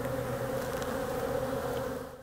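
Honeybees buzz steadily around their hives, a dense continuous drone that stays close and even before easing off at the very end.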